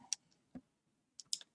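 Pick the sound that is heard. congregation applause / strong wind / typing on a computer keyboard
typing on a computer keyboard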